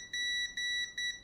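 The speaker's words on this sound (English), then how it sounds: "So this and this goes beep." An electronic device from a chat-controlled LED setup beeping, three loud, steady, high-pitched tones in a row, evenly spaced, with no voices.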